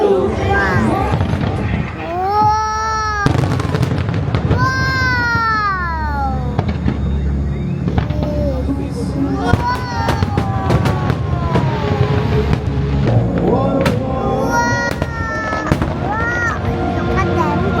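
Fireworks at a pyromusical competition display, with repeated bursts and crackles over a continuous roar of crowd chatter, and whistling rockets rising in several sweeping tones.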